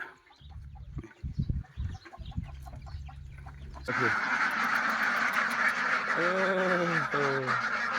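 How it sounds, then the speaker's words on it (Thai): Poultry noises from a farmyard: clucking chickens and a few quacking ducks, close by over a steady background hiss, with some handling noise at the start. "มีแต่ไก่แต่เป็ด"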